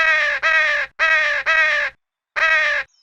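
A cartoon crow caws four times in loud, harsh, buzzy bursts, close and alone with short pauses between calls.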